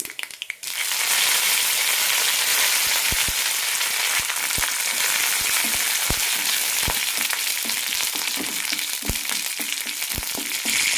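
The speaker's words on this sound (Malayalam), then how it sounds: "കടുക് പൊട്ടിക്കഴിയുമ്പോൾ കറിവേപ്പിലയും ചുവന്നുമുളകും ഇടാം" Mustard seeds, curry leaves and red chillies fry in hot coconut oil for ash gourd pachadi, a loud constant close sizzle with scattered sharp pops of bursting seeds, no talk.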